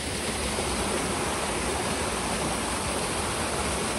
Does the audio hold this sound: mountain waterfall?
yes